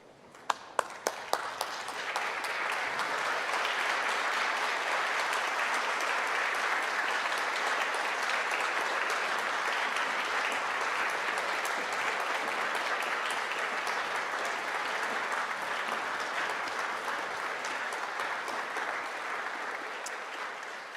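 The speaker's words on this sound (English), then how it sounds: "give a round of applause for your senior officers of the University of Liverpool" A large audience applauds senior university officers at a Liverpool University graduation ceremony. A few sharp claps at the start swell into steady, sustained, even applause that fills the hall, with no speech over it.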